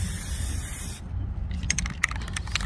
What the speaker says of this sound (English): I'm just going to spray paint the yellow jars and do a nice, even